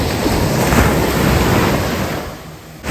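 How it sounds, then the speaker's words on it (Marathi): Sea waves break steadily on the shore at Nivati Medha near Vengurla on the Konkan coast, a loud, continuous wash of surf close by. "हे असे लाटफुटीचे आवाज सतत सतत सबंध गावात ऐकू येत असतात."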